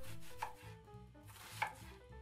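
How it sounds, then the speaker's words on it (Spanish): A knife chopping an onion on a board, two quiet distinct cuts roughly a second apart over a faint low background, with no voice. "primero cortamos una cebolla"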